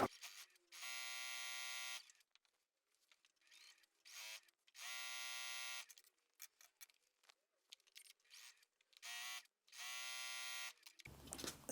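Brother VQ2 sewing machine stitching a quilt strip set, running in four loud bursts of steady high-pitched motor whir with short quiet pauses between seams.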